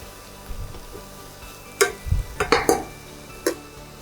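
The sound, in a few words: curry leaves added to sizzling pan with shrimp heads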